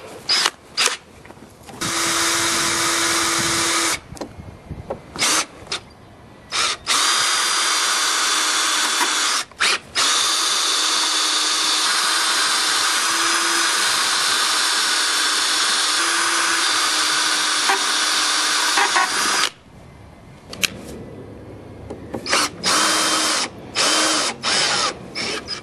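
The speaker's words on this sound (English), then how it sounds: "we're going to run the drill in there first, see if this is going to work." A power drill turns an easy out extractor bit while a door is being resized, loud high whirring in long bursts broken by short pauses, with rapid stop-start triggering toward the end.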